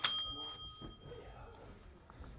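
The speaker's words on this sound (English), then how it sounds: "Here, let me ring the bell." A single bright bell ring strikes at the start and its metallic tone decays over about a second, followed by faint background murmur.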